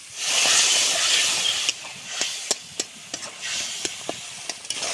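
A spice mixture of turmeric, salt and a splash of water sizzles loudly in a pan at first, then quiets as a spoon stirs and taps, leaving a string of sharp clicks over a softer fry.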